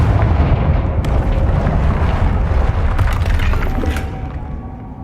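A Confringo blasting spell explodes in the Hogwarts Legacy video game, a loud, deep boom that rolls on and slowly fades, with a few crackling bursts on top.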